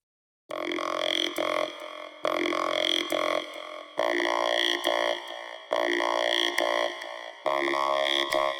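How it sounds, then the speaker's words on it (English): A buzzy, robotic vocoder voice sings low sustained notes in repeated phrases, metallic and harmonically rich with no natural vocal texture. "There's the more robot sounding vocoder is here in the low notes."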